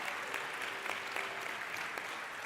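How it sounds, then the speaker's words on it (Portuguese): A church congregation applauds together during a Sunday morning worship service, a steady wash of clapping that holds at an even level throughout with no talk over it. "Você pode aplaudir ao Senhor."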